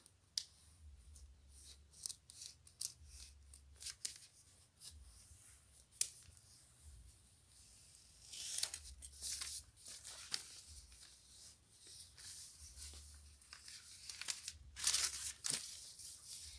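A utility cutter slicing through cellophane wrapping paper, heard close up as faint, irregular scratchy cuts and crinkles, with a few sharper clicks and rustles in a quiet room.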